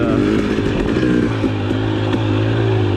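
A 2021 Husqvarna TX300i two-stroke dirt bike engine runs nearby with a loud, buzzy, steady drone and slight throttle wobble, sounding much like a chainsaw, with no one talking.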